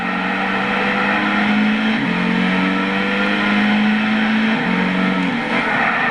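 Race car engines roar through a lap of the Brands Hatch Indy circuit in Gran Turismo 6, a loud sustained drone whose pitch shifts up and down with gear changes, no voices.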